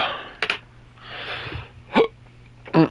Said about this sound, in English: I got the hiccups bad